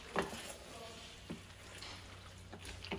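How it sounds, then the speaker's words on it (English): A spoon stirring pasta sauce for baked ziti in a pot gives a few faint, scattered scrapes and clinks against a quiet background. "All right, now we're gonna stir the shit out of this."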